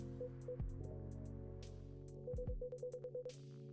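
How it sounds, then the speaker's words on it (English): A phone rings in the Coffee Talk video game as a soft, repeated electronic chime pattern in quick bursts, layered over a steady, calm musical background without speech. "I believe your phone is ringing?"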